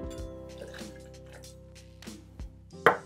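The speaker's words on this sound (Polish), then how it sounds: "Na koniec kolejne 30 ml, tym razem Bourbona." Bourbon trickles into a measuring jigger or shaker for a Paper Plane cocktail: a short run of soft drips and a light liquid pour, ending in a sharp clink near the end.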